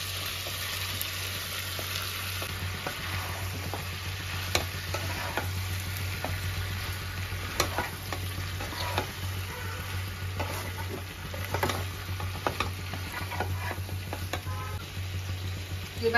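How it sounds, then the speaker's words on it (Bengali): Marinated green jackfruit hits a pan after prawns have been fried in it, sizzling steadily in oil while being stirred, with scattered scraping clicks over a constant low hum. "এবার এঁচোড়টা দিয়ে মেখে রেখেছিলাম ওটা দিয়ে দেবো"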